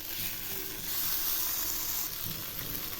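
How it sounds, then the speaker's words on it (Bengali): Tomatoes char in a hot pan, giving off a close, steady crackling sizzle with small pops that carries on evenly throughout. "এগুলি আমি একদম পোড়া পোড়া করে ভাজবো,"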